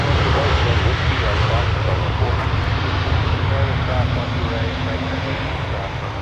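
A Sun Country airliner in 1990s retro livery runs its jet engines at Minneapolis airport, a loud steady rumbling roar with a faint whine on top, and a voice talks over the noise.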